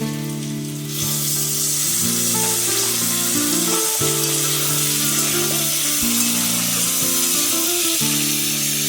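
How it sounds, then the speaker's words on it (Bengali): Onions and potatoes fry in a pan while a pointed gourd and prawn poppy-seed curry is being made, giving a steady, loud sizzle that runs throughout beneath prominent background music. "পেঁয়াজ আর আলুগুলো খুব ভালো করে ভাজা ভাজা হয়ে গেছে"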